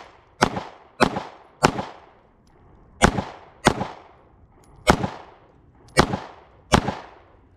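Eight sharp gunshots from a Ruger Max-9 pistol, fired at a steady, slightly uneven pace with brief ringing decay after each loud crack, no voices.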